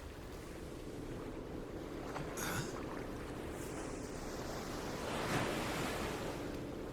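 Ocean waves wash around a small boat in the middle of the sea in the video game Like a Dragon: Infinite Wealth, a steady surf rush with wind and occasional louder swells.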